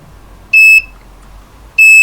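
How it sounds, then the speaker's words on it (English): Two short, loud electronic beeps from a buzzer wired to an ESP32 on a breadboard, a high-pitched tone sounding about a second apart over near silence. "you do hear the buzzer"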